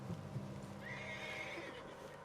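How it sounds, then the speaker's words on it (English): A spooked horse neighs in a Red Dead Redemption II game scene, a loud, drawn-out whinny in the middle of the clip over steady ambient background and a few thumping hoof sounds. "What's got this horse spook, huh?"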